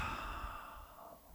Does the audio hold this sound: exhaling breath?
yes